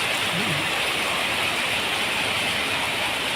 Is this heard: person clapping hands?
no